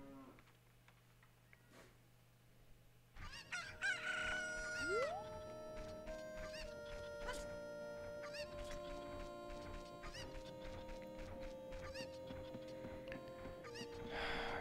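A rooster crows in The Legend of Zelda: Ocarina of Time, a rising cock-a-doodle-doo near the start, followed by a bright chiming game melody that plays on steadily and fairly loud.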